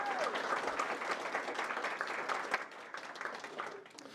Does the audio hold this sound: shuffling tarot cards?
no